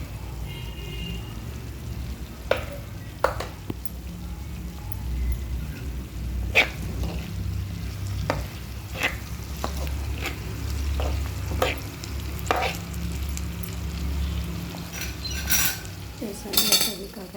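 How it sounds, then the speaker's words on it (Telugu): Bitter gourd frying in a pan, a continuous low sizzle broken by repeated scraping clicks of a spoon as it is stirred. "కాకరకాయలు కూడా వేగిపోవచ్చాయి"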